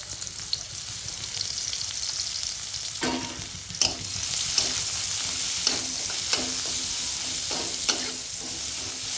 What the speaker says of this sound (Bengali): ওই পেঁয়াজটা ভেজে নেবো